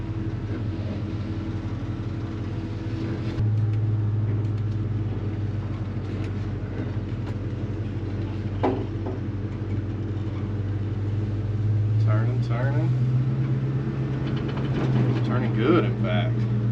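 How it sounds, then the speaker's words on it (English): A 1968 GMC truck driven slowly around the block, its engine a low, steady rumble close by that deepens as it pulls away and continues under a few scattered sounds. "run the truck around the block, make sure I can turn"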